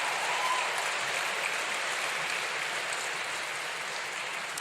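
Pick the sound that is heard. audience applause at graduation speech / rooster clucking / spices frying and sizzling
audience applause at graduation speech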